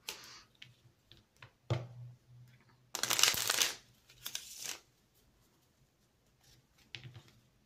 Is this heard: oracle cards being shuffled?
yes